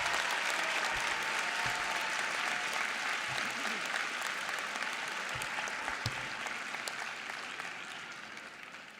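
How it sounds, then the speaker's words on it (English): Sustained applause from a commencement audience honoring the moms and dads, a dense steady clatter of many hands that carries on for the whole stretch and eases off slightly toward the end. "Can we take a moment and give all the moms and dads a round of applause?"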